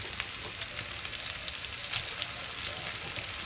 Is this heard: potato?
yes